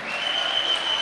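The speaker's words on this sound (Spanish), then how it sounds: "Apláudalo." A church congregation applauds steadily at a Sunday family service, a dense, even wash of clapping that holds at a constant level for about a second with a faint high tone running through it.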